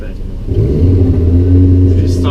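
A turbocharged Vauxhall Corsa drag racing at Santa Pod gives a loud, sustained engine drone that rises in pitch as it revs up, with a close, heavy rumble throughout and voices nearby.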